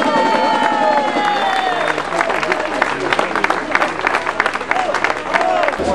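Audience applause at a cooking competition awards ceremony as the top three women's teams are presented, steady crowd clapping and cheering mixed with babble of voices, while a sustained tonal whistle-like sound drifts through.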